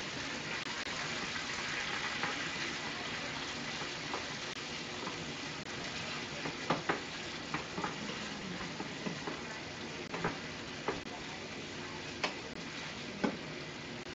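Food sizzles steadily in a pan on an evening stovetop, a broad continuous fry with sharp scraping taps from stirring scattered through the second half, close and fairly quiet.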